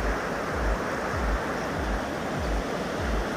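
Heavy rushing flood water in Yamunanagar roars continuously up close, with a regular series of low thumps pulsing under the broad wash of noise.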